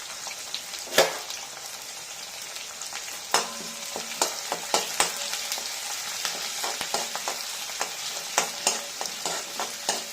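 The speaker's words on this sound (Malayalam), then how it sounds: "അരിഞ്ഞു വെച്ചേക്കുന്ന വെളുത്തുള്ളി, അരിഞ്ഞു വെച്ചേക്കുന്ന പച്ചമുളക്, ഇത്രയും കൂടി നന്നായി ഒന്ന് ഇളക്കി വഴറ്റിയെടുക്കും" Chopped garlic and green chillies sauté in oil for a lemon pickle, a continuous close sizzle broken by repeated scraping stirs and small crackles.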